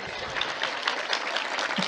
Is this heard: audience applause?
yes